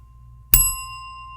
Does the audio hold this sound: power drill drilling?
no